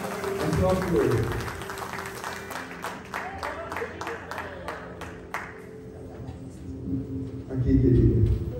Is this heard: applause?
yes